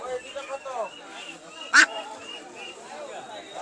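Ducks for sale at a poultry market give a short, sharp quack that stands out once over steady conversation between a buyer and sellers.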